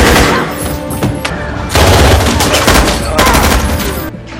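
Rapid bursts of automatic gunfire in a film action scene, loud and dense, with crackling volleys that swell and ease off over several seconds.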